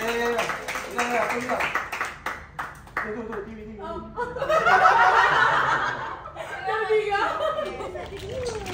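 Club members at a meeting clap for themselves, with a burst of applause building and fading alongside chuckles, laughter and overlapping chatter in a room.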